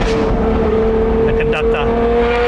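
A Novitec-tuned Ferrari 812 GTS V12 cruises in fourth gear at about 80 with a steady, close engine drone of sustained tones. Brief higher whines rise near the end.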